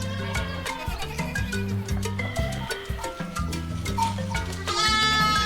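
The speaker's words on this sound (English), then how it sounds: "Baby goat is known as kid." Goat bleats over bouncy background music, several short wavering calls scattered through the stretch alongside the tune.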